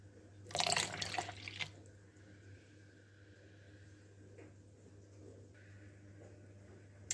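A short burst of filtered water pouring for about a second into a mix of almond oil and Castile soap, followed by quiet room tone with faint clinks.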